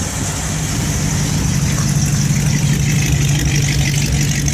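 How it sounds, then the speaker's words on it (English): A 1980 Jeep CJ5 with a 304 V8 and mild cam idles smoothly, a steady low exhaust rumble held close and even throughout with no talk. "Just a great sounding, smooth, it's a good little motor, these 304s."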